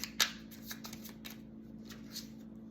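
Tarot cards being shuffled by hand in a quiet room, a brief riffle burst followed by soft scattered flicks and slides, close and faint over a low steady hum.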